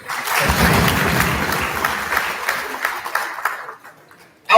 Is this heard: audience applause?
yes